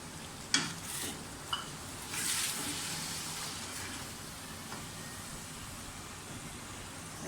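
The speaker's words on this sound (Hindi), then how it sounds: "बहुत अच्छी तरह से भून के सारे मसालों के साथ ही इसमें अब टमाटरों का जो हमने पेस्ट बनाया है वो डाल दें" Mutton and spices fry in a pan as tomato paste is added and stirred in, giving a steady soft sizzle with a couple of sharp clinks of the spoon early on.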